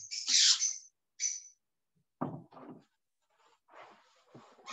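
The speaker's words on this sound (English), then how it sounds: "I'm going to pause briefly to try and get my bird to quiet down a little bit." A pet bird calls indoors with sharp, high chirps, close by, in short bursts separated by quiet gaps, alongside some low scattered room noises.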